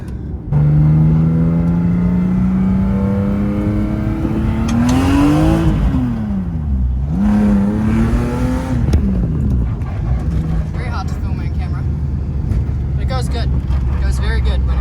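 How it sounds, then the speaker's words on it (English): A car on a test drive pulls hard in first gear, its engine tone rising steeply, dipping at a shift-like break, then climbing again before settling into a steady running drone, loud and close. "Just gonna do a little first gear pull."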